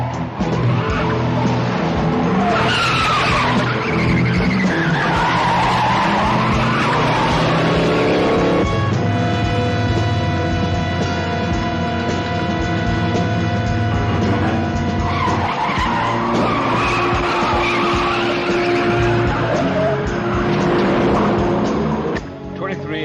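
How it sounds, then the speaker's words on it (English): A blue 1974 Cougar is chased by police cars, tires squealing loudly in long sustained skids with engines roaring close by, while sirens and voices sound over the racing traffic throughout. "we are now in code 3 pursuit of the blue Cougar"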